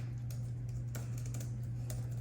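Quick, light key clicks from typing on a Logitech Slim Folio Pro keyboard for iPad Pro, irregular taps close by over a steady low hum, no voices.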